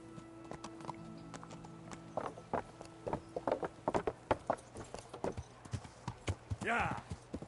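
Horse hooves clip-clopping in Kingdom Come: Deliverance, a steady walking rhythm of many hoof strikes building in loudness under faint game ambience, ending with a short snort or whinny.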